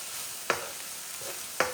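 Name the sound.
stirring cabbage into quinoa in a pan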